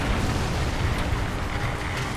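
Tank cannon fire in the War Thunder video game striking a tank's suspension, a dense booming rumble with continuous low-end roar throughout.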